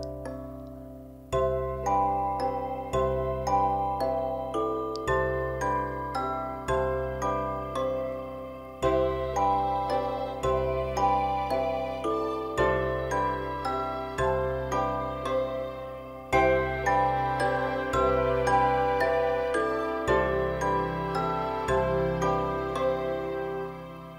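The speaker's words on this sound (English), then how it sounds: "That's definitely a Gamelan VST or audio unit in there." Gamelan-style metallic chimes ring out in a slow, calm Minecraft soundtrack piece, the soft bell-like notes sustaining over gentle low tones. The music plays alone and quietly for about twenty-four seconds.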